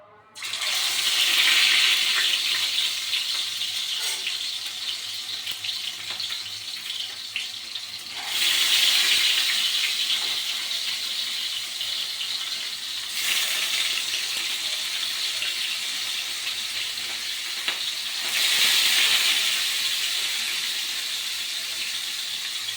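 Fish pieces slide into hot oil and fry, a broad, steady hissing roar that surges in waves every few seconds and settles in between, heard alone without talk.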